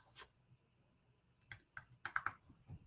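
An email address is typed on a computer keyboard in a quick, irregular run of soft key clicks, sparse at first and then clustering into a faster burst near the end, faint and close.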